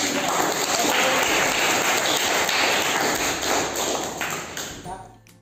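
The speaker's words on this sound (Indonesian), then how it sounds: "Kita kasih aplaus semuanya." An audience in a classroom discussion session claps together, a dense, steady wash of applause that stays loud for several seconds before tapering off near the end.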